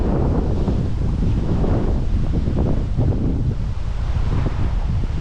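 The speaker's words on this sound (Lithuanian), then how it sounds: "Šiandien žiauriai stiprus vėjas." Very strong wind roaring through a forest, a loud continuous buffeting rush with gusts and rustling, booming against the microphone throughout.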